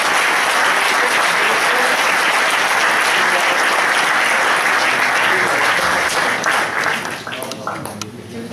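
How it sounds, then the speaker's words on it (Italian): Loud, sustained applause from an audience at an Italian political tour event in Noale, honoring entrepreneurs and freelance professionals, dense clapping filling the room before tapering off near the end. "io farei un applauso a quegli imprenditori liberi professionisti che sopravvivono"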